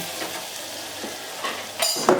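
A spoon scrapes and stirs a black-eyed pea curry in a frying pan with steady sizzling, a few clinks of metal rising near the end.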